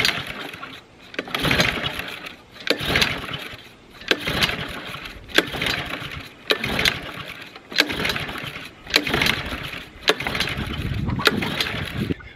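Small gasoline lawn mower engine being revived after a hurricane, cranked repeatedly in a rhythmic series of pull-start bursts about every second and a half that sputter without settling into a steady run, loud and close.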